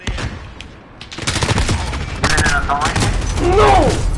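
M4A1 rifle gunfire in Modern Warfare gameplay, loud sustained bursts of rapid automatic fire with game effects, running continuously across the clip.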